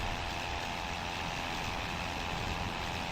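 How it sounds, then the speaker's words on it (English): A failing WWI fighter aircraft engine sputters along at about 500 RPM in a flight sim, a steady dense drone under heavy wind rush that stays loud and unchanging throughout, with no voices. "Bad news is that's because the engine is dying"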